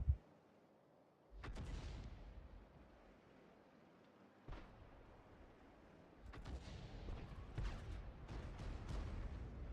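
Heavy cannon blasts from an M44 self-propelled artillery gun in World of Tanks, several loud booming shots with rolling rumble between them, the last few coming in quicker succession.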